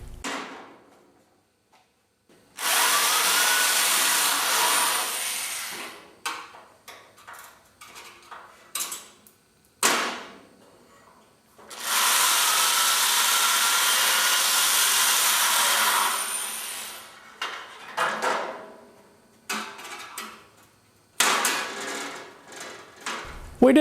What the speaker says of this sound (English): We try to be careful to drill through only the head of the rivet.